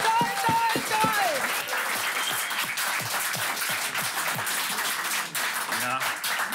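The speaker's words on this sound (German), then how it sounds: "Extra Applaus dafür" A studio audience at a German late-night music talk show claps warmly and steadily, dense applause that continues throughout, with a voice speaking over it near the start.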